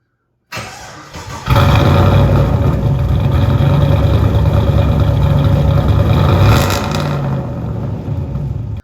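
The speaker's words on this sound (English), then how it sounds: "did you guys want to hear the car running?" An LS1 V8 swapped into a second-generation Mitsubishi Eclipse cranks and fires, then settles into a loud, steady, rumbling run close by for several seconds, with no talking.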